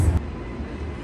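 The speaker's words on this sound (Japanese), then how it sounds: "ゴールドコースト行きの列車来ました。" Low rumble of a train pulling in on a Gold Coast line, a brief, fairly loud burst of rolling rail noise with a heavy low-end thump at the start, and no talk.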